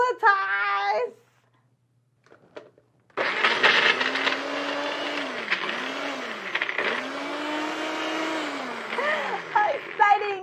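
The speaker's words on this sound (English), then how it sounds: "Now we're gonna blend it." A NutriBullet blender whirs loudly as it blends a homemade facial cleanser, its motor starting abruptly after a brief silence and running steadily for several seconds with a rising and falling pitch; a voice is briefly heard before it starts.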